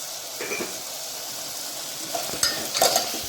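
Salted tomatoes sautéing in a pan for Tamil-style tomato rice, a steady close sizzle broken by a few sharp stirring scrapes and clinks toward the end.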